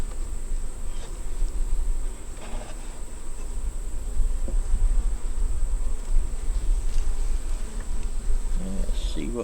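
Gentle honey bees buzz around a deep nuc hive of four frames, a dense, continuous hum held close and fairly loud throughout, with no talking.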